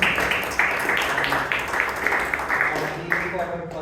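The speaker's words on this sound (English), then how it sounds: "Let's do a big round of applause for our new members" Applause from a club meeting audience welcoming new members, a steady wash of clapping that runs under a speaking voice for a few seconds.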